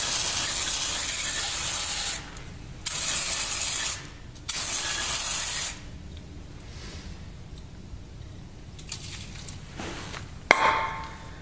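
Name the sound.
spraying brake cleaner on engine cylinder head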